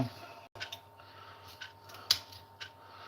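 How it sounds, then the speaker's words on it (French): Kitchen scissors snip through the shell of giant raw prawns, giving a few quiet, crisp cuts and clicks spaced irregularly over a soft background. "Donc on coupe la carcasse."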